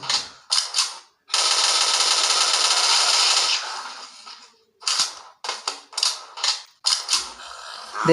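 Rapid automatic P90 gunfire in a video game rattles in a long sustained burst, then continues in several shorter, choppy bursts separated by brief pauses.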